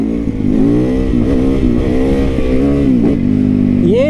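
A motorcycle revs hard through a wheelie, its engine note climbing and falling in steady, close, loud waves, then rising sharply at the end.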